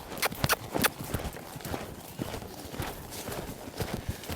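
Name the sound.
horse hooves loping on a trail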